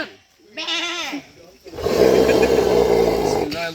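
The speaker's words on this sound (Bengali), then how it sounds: "ছাগল" A goat bleats at a Qurbani gathering: a short wavering bleat followed by a longer, louder, strained cry, close and clear, with people nearby.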